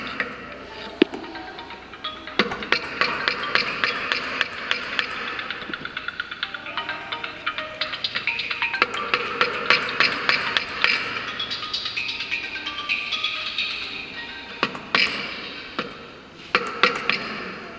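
Steel chisel working a wooden T joint in carpentry, paring off projections and burrs: repeated sharp clinks and taps, some in quick bursts, over steady scraping, close and fairly loud with no talking.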